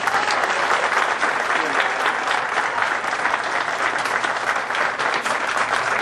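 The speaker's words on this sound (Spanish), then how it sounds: "muchas gracias por la hemorragia de aplausos" A comedy show audience breaks into loud, sustained applause, dense clapping with some crowd noise that stays strong from start to finish.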